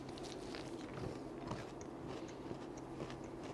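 Crunching on a snack during a candy and snack mukbang, quiet close bites and chewing crackles repeating irregularly against a faint background.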